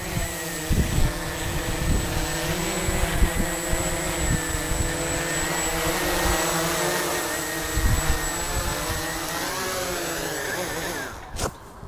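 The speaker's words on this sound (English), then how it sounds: "So that's what it looks like landing a little bit more advanced quadcopter." A quadcopter drone landing, its rotors giving a steady loud whining buzz up close that wavers in pitch, then cuts off abruptly near the end.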